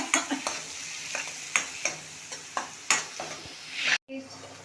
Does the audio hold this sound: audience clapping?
no